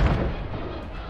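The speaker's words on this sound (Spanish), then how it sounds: "Estoy disparando, me está disparando." Gunfire in the video game Apex Legends on the Kings Canyon map: a loud, close burst hits at the start and its rumbling tail fades over about a second.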